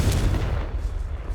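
Confringo blasting spell explosion in Hogwarts Legacy, a loud booming burst at the start followed by a rumbling, crackling decay.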